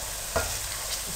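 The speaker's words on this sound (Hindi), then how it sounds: "अब आपने इसमें लहसुन पेस्ट डालना है।" Garlic paste hits hot oil for a peas pulao and sizzles loudly, with a short stirring scrape in the middle of the steady frying hiss.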